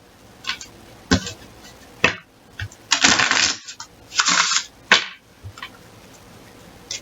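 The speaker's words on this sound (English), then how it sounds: "You're probably wondering why I shuffle like this." Tarot cards being shuffled, a series of sharp riffling and slapping bursts of varying length, close and fairly loud, separated by brief quiet pauses with no speech.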